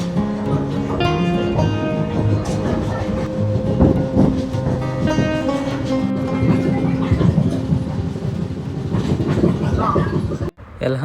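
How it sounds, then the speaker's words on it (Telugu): Kondaveedu Express train passing close by on Indian railway tracks while a goods train runs on the other side, with a loud steady rumble and clattering wheels throughout and a brief drop near the end. "అటు సైడ్ ఏమో గూడ్స్ వెళ్తుంది, ఇటు సైడ్ ఏమో మన కొండవీడు ఎక్స్ప్రెస్."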